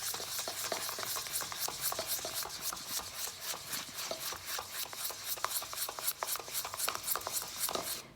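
Hair dye being stirred together with developer in a small bowl, giving a steady run of close scraping, rasping strokes with a quick repeated rhythm and no talking.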